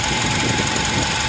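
An engine idles loud and close with a steady, rough rumble and a fast ticking beat throughout, no pauses.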